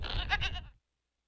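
Goats at an outdoor goat yoga session let out a loud, close bleat lasting under a second, then the sound stops into silence.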